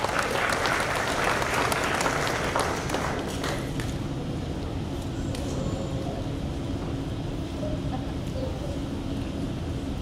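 At a middle school promotion ceremony, a crowd applauds honor students with a burst of clapping lasting a few seconds before it fades into a quieter hall murmur.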